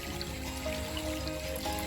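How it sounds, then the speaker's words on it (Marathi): A small stream flows beside a farm field on a Konkan morning, giving a soft, continuous rushing murmur with faint higher chirps above it. "छोटासा आमच्याकडे नाला आहे व्हल आहे व्हल आमच्याकडे होल बोलतात त्याचा आवाज बघा कसा येतो आहे"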